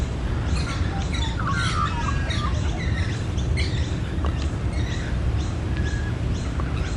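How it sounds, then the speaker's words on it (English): Australian magpies carolling outdoors, warbling, fluting calls that come in several overlapping bursts over a steady background hiss, fairly close and moderately loud. "That beautiful sound that they make that you just did then is called caroling"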